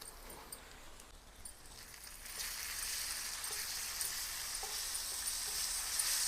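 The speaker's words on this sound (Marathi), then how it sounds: "आता आपण त्यामध्ये 2 चमचे आले लसूण आणि मिरचीची पेस्ट घालूया." Ginger-garlic-chili paste frying with browning onions in a pan for a Koli-style egg tawa masala, a steady broad sizzle that swells louder and denser partway through, with light stirring scrapes and no talking.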